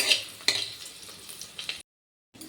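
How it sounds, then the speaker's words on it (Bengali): Dried chilies, bay leaf and green chilies sizzling in hot tempering oil, a bright frying hiss with stirring clinks and scrapes, close and fairly loud before a brief silent gap. "ফোড়নে শুকনো লঙ্কা তেজপাতা আর কাঁচা লঙ্কা"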